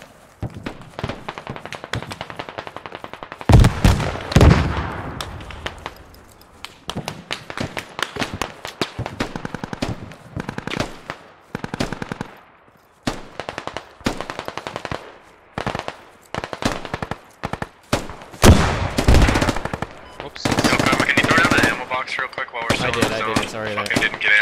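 Rapid bursts of heavy 14.5 mm cannon fire crackle repeatedly in loud clusters in the video game Squad, mixed with explosions and game sounds, while voices shout and talk over the shooting.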